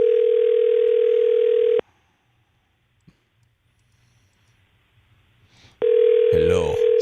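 Steady telephone dial tone during a phone call, loud and continuous, cutting off into near silence for about four seconds, then returning with a brief burst of other tones overlapping it.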